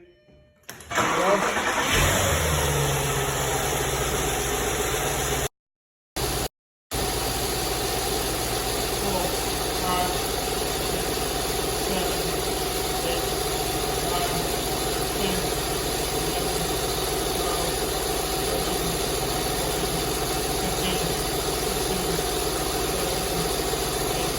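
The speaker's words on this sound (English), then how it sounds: "where I would start it and then it would just die" A 2005 Audi A8 engine cranks and catches in a garage, then settles into a steady idle hum with brief cut-outs early on, and a voice speaks faintly in the background.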